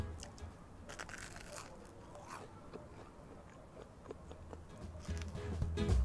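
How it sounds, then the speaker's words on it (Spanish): Crisp bites into a Brussels waffle give quiet, scattered crunches and crackles close to the mic, with a low rumble growing louder toward the end. "Escuchad el crujiente de un buen gofre de Bruselas."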